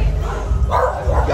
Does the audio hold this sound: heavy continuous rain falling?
no